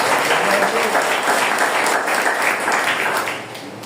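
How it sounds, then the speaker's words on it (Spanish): Congregation applause during a sermon on divine healing in a church, loud and dense clapping from a close crowd, holding steady before easing slightly at the end. "Dale palmas"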